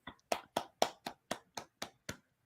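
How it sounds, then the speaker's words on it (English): Podcast hosts give a round of applause as a slow, even run of nine distinct hand claps. Each clap is sharp and close, and together they are fairly faint, with no talk over them. "We'll make it a 2-minute round of applause"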